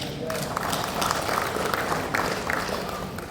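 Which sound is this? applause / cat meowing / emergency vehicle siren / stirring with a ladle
applause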